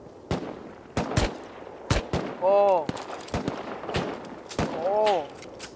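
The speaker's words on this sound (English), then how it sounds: "We're getting shot at." Gunfire in a battle-royale style video game, with many sharp shots at irregular intervals, some loud and close, others fainter, mixed with whooshing projectile sounds and ongoing talk among players.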